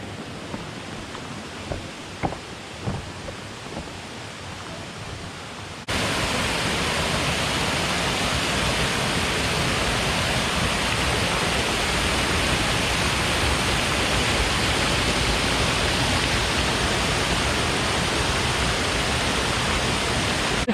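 Large waterfall on the Ricketts Glen Falls Trail, heard up close from the top: a dense, loud, continuous roar of rushing water that swells abruptly after a quieter stretch with a few footstep-like knocks.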